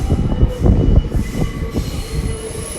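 A TfL Rail class 345 electric train at London Paddington squeals loudly on its wheels at close range, with heavy rumbling clunks and clatter as it moves through the station, and no voices.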